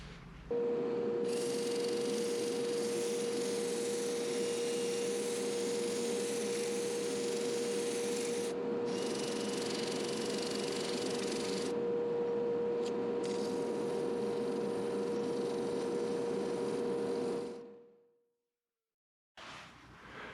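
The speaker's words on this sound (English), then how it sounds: "in here I'll be using just strips of sandpaper" Sandpaper strips pressed against a green ash bowl spinning on a wood lathe give a steady, loud whirring hiss with a constant motor hum, running unbroken for most of the stretch before cutting off near the end.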